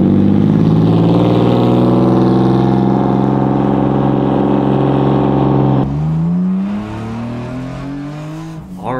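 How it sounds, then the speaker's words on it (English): Porsche Boxster, a 150-horsepower mid-engine rear-wheel-drive car, drones loudly and steadily from inside the cabin, then its engine note drops and climbs again as it shifts and accelerates. "First time ever driving this car, ever driving rear-wheel drive, mid-engine."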